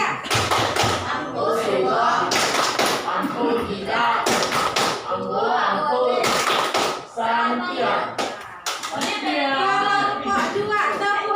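Several groups of children chant and clap together in a classroom, loud rhythmic bursts of hand claps interleaved with shouted voices, one group after another.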